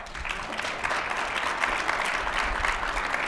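Applause from a room audience at a live talk event with a governor, dense and steady throughout, at moderate distance with no talk over it.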